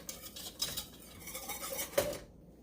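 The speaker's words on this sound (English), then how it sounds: "I'm going to whisk this together real quick." A whisk clatters against a bowl while mixing egg-free pudding batter, rapid scraping and metallic clinks, close and fairly quiet, stopping abruptly near the end with no talking.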